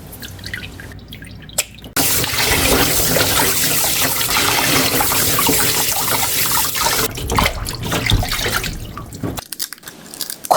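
Dried pollock is rinsed in a bowl of water, with a loud continuous splashing and running-water wash for several seconds, framed by quieter drips and handling sounds at either end.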